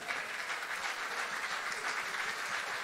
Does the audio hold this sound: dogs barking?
no